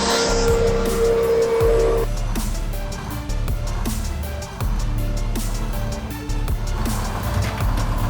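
A KRAZ 214 truck and an Opel Vectra car locked in a tug of war, with engines roaring loudly and without a break and tires squealing, over a dense, churning background.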